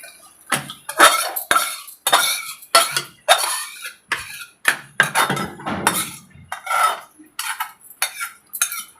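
Drumstick gravy (mulakkaya pulusu) going into a pot on the stove, with repeated clinks and scrapes of utensils against metal pots in an irregular, close, busy rhythm and no talking.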